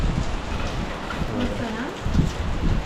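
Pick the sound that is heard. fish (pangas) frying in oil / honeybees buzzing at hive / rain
rain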